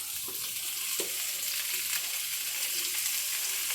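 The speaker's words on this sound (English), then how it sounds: "let them brown right here. As you can see, this is the beef sauce that I'm cooking." Beef sausages browning in a greased pan give off a steady, dense sizzle and crackle that stays close and even throughout, with a few faint utensil touches and no talk.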